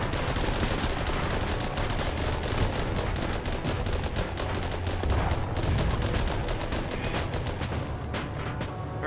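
Tank machine gun in the video game Armored Battle Crew, firing a long sustained burst of rapid, loud, evenly spaced shots that carry on for the whole stretch with no pauses.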